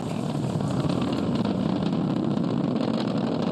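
Falcon 9 first-stage rocket engines roar during launch as the stage throttles down, a dense, continuous broadband rumble that stays loud and steady throughout.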